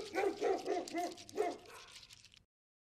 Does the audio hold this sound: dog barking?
yes